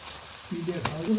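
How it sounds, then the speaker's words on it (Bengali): Climbing perch (koi fish) drop into spice paste frying in a pan, and a sudden close sizzle rises and keeps crackling. "এবার আমি মাছ দিয়ে দেব কই মাছগুলো দিয়ে"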